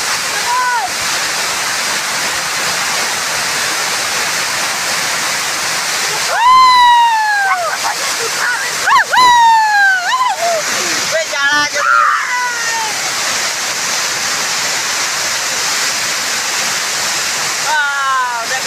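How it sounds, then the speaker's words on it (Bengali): Water rushes loudly and steadily at Balidiha dam in Mayurbhanj, a constant roar that carries on throughout while a person talks in bursts over it. "মানে এত জোর জলটা বাড়লে আসছে, এই যে শোনা আছে নাই, খালি ঝ ঝ ঝ ঝ করছে"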